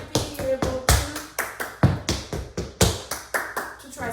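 Tap dance steps in a five-sound riff walk with slurred riffs, a quick run of crisp, evenly spaced metal taps and heel drops, close and dry with no talking.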